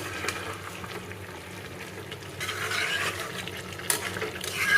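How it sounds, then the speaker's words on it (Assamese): Chicken cooked with curd and onion bubbles in a pan, a soft wet sizzle broken by the scrape and clatter of stirring that grows louder toward the end. "আৰু এই পানী শুকাই যোৱালৈকে এনেকৈ ধুনীয়াকৈ ভাজি থাকিব লাগিব"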